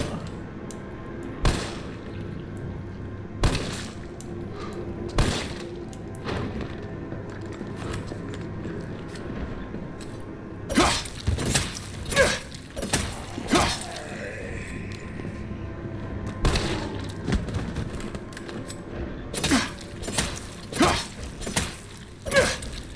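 Resident Evil 3 gunfire in the R.P.D. section: scattered bursts of shots and impacts over a busy game soundscape, moderately loud, with quieter stretches between volleys.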